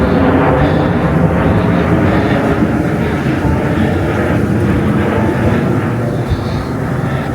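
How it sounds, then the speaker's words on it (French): An airplane passes overhead near a pontoon in Elche, a loud, steady broadband engine roar that fills the whole stretch without letup. "il fallait bien un troisième avion"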